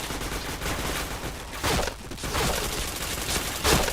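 Rapid gunfire bursts ring out in a shooting video game, a dense continuous fusillade with a few louder sharp shots standing out, and no talking over it.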